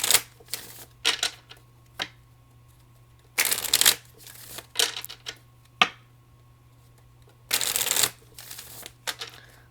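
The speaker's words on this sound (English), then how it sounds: "One more shuffle, please." Tarot cards are shuffled in several crisp riffling bursts with quiet gaps and light taps between, close up, with a low steady hum beneath.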